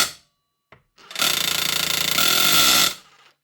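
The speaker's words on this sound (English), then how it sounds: "Now, just test and make sure she's hammering." Makita DHR 243 SDS hammer drill run in hammer mode after a controller repair: a short blip, then a loud rapid hammering burst lasting nearly two seconds before cutting off.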